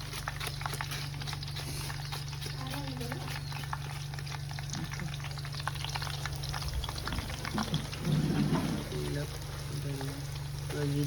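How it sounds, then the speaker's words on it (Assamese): Banana chips deep frying in oil over a full flame give a steady, fairly faint crackling sizzle throughout, with a steady low hum underneath and a voice speaking now and then. "পুৰা জুইত ভাজি আছে"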